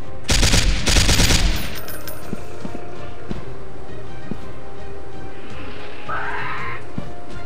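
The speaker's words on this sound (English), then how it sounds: "That's a shotgun." Shotgun fire in the video game Dinosaur Hunter: a pair of loud, close blasts in quick succession, followed by quieter in-game rustles and thuds.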